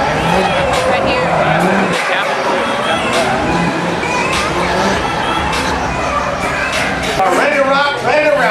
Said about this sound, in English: Ryan Turk, that's the Toyota Corolla hatchback